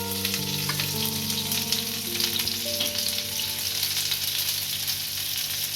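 Okra dropped into hot oil for a Gujarati dahi bhindi, giving a steady, close, loud frying sizzle with a few faint stirring clinks, no voices.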